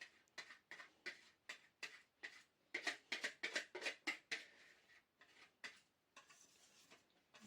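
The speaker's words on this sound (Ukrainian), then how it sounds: "добренько перемішуємо." Whisk or spoon clicking rhythmically against a bowl while yeast mixture is stirred into eggs for cabbage pie dough, a quick run of light taps that bunches tighter midway and then slows, close and fairly faint.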